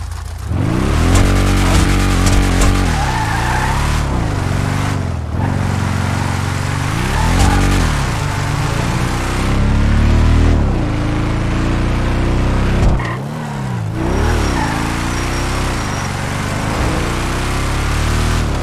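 A car engine revs hard and accelerates, its pitch climbing and dropping through several gear changes, loud and close throughout with no talking.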